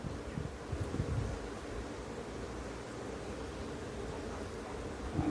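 Honey bees buzz around an opened hive, a steady low hum with rustling, fairly quiet and continuous throughout, with no talking.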